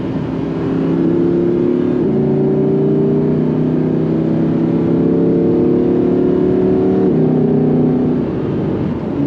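Audi R8 V10 engine with a GPF-equipped exhaust revving loudly and steadily, its pitch rising and dropping between gears in long sustained pulls, heard close with no talk.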